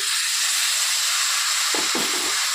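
Water-soaked cumin powder hitting a hot pan for a Bengali pui shaak chorchori, a loud, sustained steamy hiss with a couple of brief low clatters near the end.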